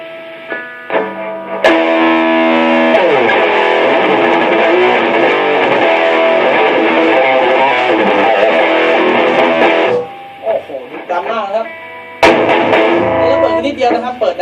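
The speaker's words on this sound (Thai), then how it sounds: "เดี๋ยวเรามาฟังเสียงแตกนะครับ" Overdriven electric guitar through a Fender Deville amp plays a dense, loud, gritty sustained passage, then breaks off briefly before resuming with sharp attacks.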